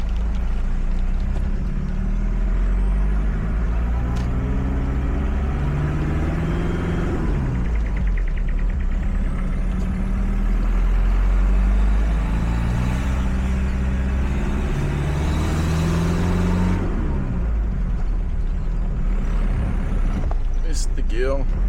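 A car engine labors steadily in gear while the car climbs a hill on private property, a loud, continuous low drone with the pitch rising and falling as it works up the slope, and a voice talking over it.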